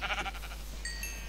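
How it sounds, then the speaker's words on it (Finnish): A sheep in the Minecraft video game bleats in a short wavering burst over a low steady hum, followed by faint tonal blips. "täällä on lampaita"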